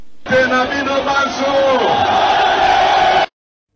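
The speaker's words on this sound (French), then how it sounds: "La foule a répondu par des acclamations enthousiastes" Crowd at a political rally in Boende, cheering and bellowing enthusiastically, a loud sustained roar of many voices that cuts off abruptly near the end.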